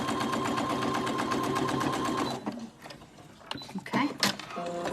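An electric sewing machine stitches a quilt seam in a fast, steady, rhythmic whir for about two seconds and then stops, followed by soft handling clicks and rustling of fabric.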